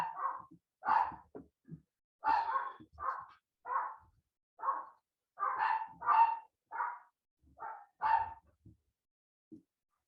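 Several dogs bark in short bursts, a string of sharp woofs and yips spaced irregularly at moderate distance, with quiet gaps between.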